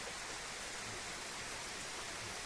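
On a rainy mountain trail, a stream of water runs across the path with a steady, even hiss. The flow is faint and constant, with no voices.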